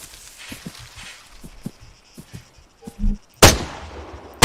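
Rifle shots in Arma 3 on a firing range, first a few soft muffled thumps like footsteps, then one sharp loud report near the end, with no voice heard.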